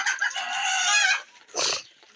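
Native deshi chickens call up close in a small flock of about sixty young birds, with a drawn-out crowing cry followed by a short sharp cluck.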